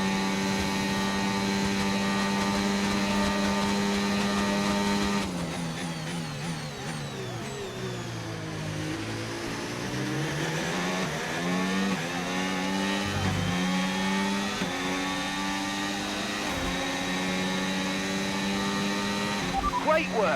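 Formula 1 car engine whining at high revs in F1 25 during a home Grand Prix for Penske, a sustained buzzing drone that dips and climbs through gear changes, with a voice talking over it.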